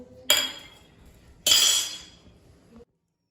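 Two ceramic rice bowls clink sharply against dishes in a home kitchen, one bright ringing strike followed a second later by another that fades out, close and without talk.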